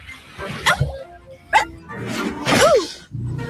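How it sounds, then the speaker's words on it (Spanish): A dog gives several short barks and yips, close and fairly loud, with a whining, whimpering tone rising between them. "Un perro lleno de preguntas."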